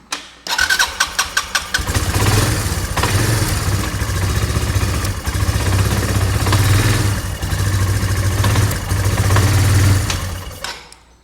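A broken four-wheeler ATV engine cranks with a quick series of sharp strokes, catches and settles into a loud, steady idle that runs for several seconds before fading out as it shuts down.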